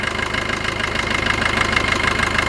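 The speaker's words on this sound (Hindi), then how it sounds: "पहले से स्मूथ इसकी जो आवाज़ आ रही है गाड़ी की, इंजन स्टार्ट की" A Maruti Vitara Brezza engine idles steadily after EGR valve cleaning, a continuous even hum with a faint rhythmic knock, close and fairly loud, with no talk.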